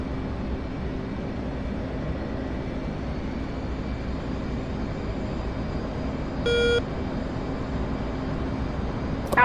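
A jet aircraft flying in the DCS flight simulator game, heard as a steady, loud cockpit engine roar that holds unchanged throughout, with a short electronic tone near the end.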